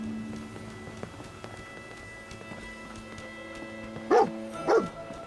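Two short barks from the dog companion Dogmeat in the video game Fallout 4, coming close together near the end over a steady low game ambience and hum.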